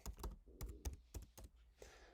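A password is typed on a computer keyboard: about seven crisp, quick keystrokes close to the microphone in an uneven rhythm, quiet and free of speech.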